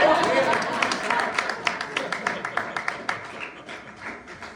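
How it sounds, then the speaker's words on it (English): A small presentation audience claps in a brief scattered burst of applause that thins out and fades within a few seconds. "You could clap if you need to clap."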